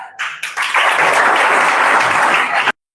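Audience applause in a classroom gathering, a dense burst of many hands clapping close and loud for about two and a half seconds before stopping abruptly.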